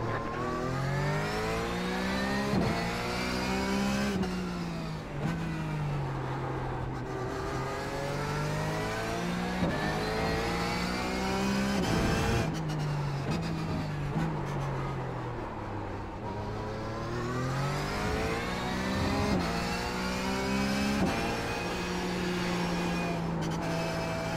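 A Porsche 911 GT3 race car in the iRacing sim at COTA drones continuously, revs climbing and falling through repeated gear shifts under steady load, with no one talking.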